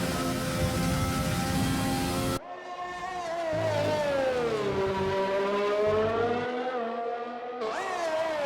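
A race car in a video game league round at Singapore drops its engine pitch under hard braking, then climbs through rising, whining revs as it accelerates out of a turn.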